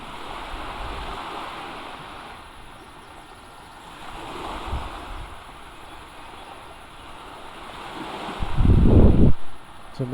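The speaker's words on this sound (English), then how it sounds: "They thought enough to have water sounds." Water and waves wash along a shoreline in a flight simulator over Monterey Bay, a soft, steady surf rising and falling, with a louder rumbling swell near the end and no talk.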